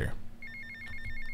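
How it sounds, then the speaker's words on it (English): A phone rings in the video game GTA Vice City, a rapid trilling electronic ring repeating in short bursts, clear and close over low game background noise. "No time to answer phone calls."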